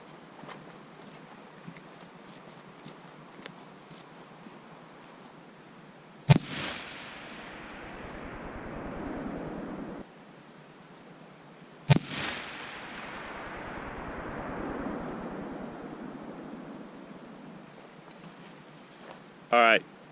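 Two sharp rifle shots fired at a target through a scope, each a loud crack followed by a long rolling echo outdoors, several seconds apart.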